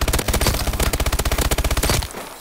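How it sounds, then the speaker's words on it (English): A submachine gun in Call of Duty: Advanced Warfare fires one very rapid, sustained burst of evenly spaced loud shots for about two seconds, then the echo fades. "this is the fastest firing SMG in the game, which is a free SMG too"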